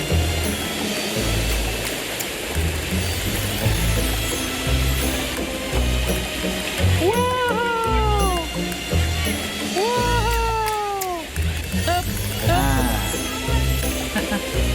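Water splashes and rushes steadily at a waterfall inside a water tunnel at Fantasia Lagoon water park, The Mall Bang Khae, with loud broadband noise throughout while a child and an adult talk and squeal over it.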